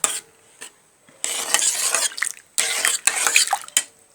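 Chickpea and red lentils mixed with a little mustard oil and salt in a pan, heard as close, uneven bursts of scraping and clinking separated by short quiet gaps, with no voices.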